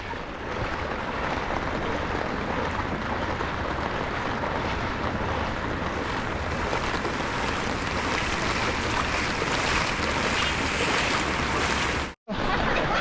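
Rushing flood water after a day of rain roars continuously and loudly, broad and turbulent, with wind buffeting the microphone and a brief cut near the end.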